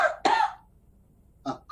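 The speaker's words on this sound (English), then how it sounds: "a cough took them over as well" Coughing during a campfire ghost story: two sharp, harsh coughs close together, then after a pause two shorter ones, close and fairly loud against near silence.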